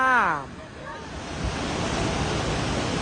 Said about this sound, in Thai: และนี่คือวิวของน้ำตกค่ะ